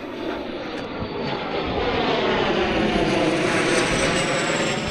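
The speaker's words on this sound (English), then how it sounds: "Private jet." A low-flying private jet passes over open Highland ground near Loch Ossian and Rannoch, a loud, steady engine roar that swells slightly as it draws closer, heard alone without voices.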